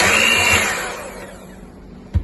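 An electric mixer whirs steadily as flour is beaten into chocolate cake batter, loud at first and gradually easing, with a brief knock just before the end.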